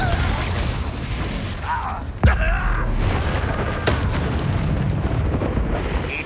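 Confringo blasting spell from Hogwarts Legacy: a dense, loud burst with a sudden boom near the middle and a second blast later, set in roaring, clattering combat noise.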